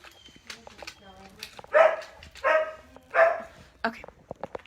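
A dog rescued among a group of 51 barks several times in loud, close bursts, mixed with yips and whimpers, while people talk nearby.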